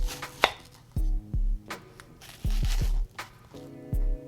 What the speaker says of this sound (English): Cut your onion into wedges like so.